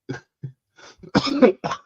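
A person with RSV coughs several times in short, uneven bursts, close up, with a harsher throat-clearing hack in the middle and quiet gaps between.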